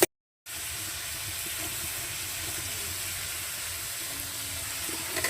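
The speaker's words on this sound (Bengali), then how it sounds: "এখানে শুটকিরে কষানো হচ্ছে মশলার মধ্যে" Dried fish frying in spices in a pan makes a continuous, even sizzling hiss that starts after a short silence and holds steady at moderate loudness, with no talking.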